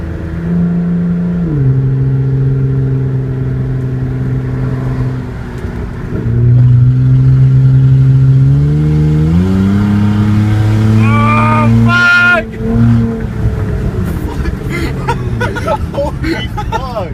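Loud raspy exhaust from a muffler-deleted Hyundai Sonata rising through repeated revs and gear changes, pitch climbing then dropping, with a brief cutout and people talking and shouting over it.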